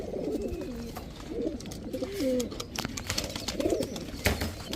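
Teddy pigeons coo in soft, repeated rolling calls at close range over faint background noise.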